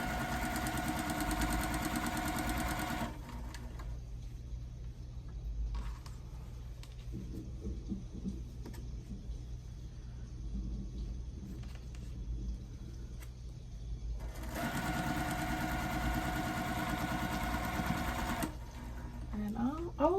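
A sewing machine stitches a quilt block in bursts of rapid mechanical whirring, loud at the start and near the end with quieter handling sounds between runs.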